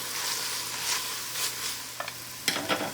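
Diced vegetables sauté in butter in a pan, a soft steady sizzle broken by a few clicks and scrapes of a utensil near the end.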